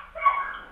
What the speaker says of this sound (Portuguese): manda esses cachorros calar a boca aí, rapaz